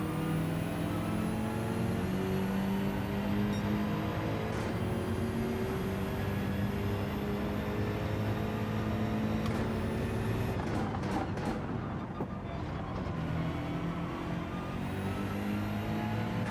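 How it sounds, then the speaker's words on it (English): BMW race cars' engines in Gran Turismo 7, several engines droning together at high revs, with pitch slowly climbing and occasional sharp shifts, loud and continuous, no voices. "these BMWs do sound good when they're running together"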